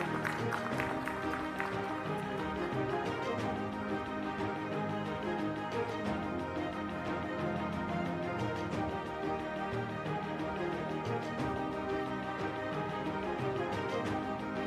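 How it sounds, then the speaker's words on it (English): An audience at a graduation ceremony at BMICH applauds, a moderate, sustained patter of many hands clapping that holds fairly even throughout, heard from some distance in a large hall. "Let's put our hands together and give her a round of applause too."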